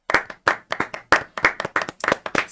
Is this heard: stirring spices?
no